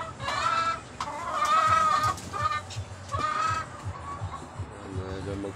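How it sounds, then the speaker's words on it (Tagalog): A Boston Sweater gamefowl broodcock rooster clucks in repeated short bursts, loud and close, with other farm fowl calling faintly in the background and a voice speaking intermittently. "Ang broodcock ko ay Boston Sweater."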